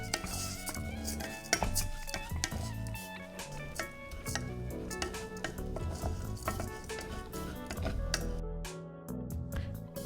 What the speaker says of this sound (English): Once our rice is added into the pot, we're going to give that a nice toss and get all the rice kernels coated in that oil.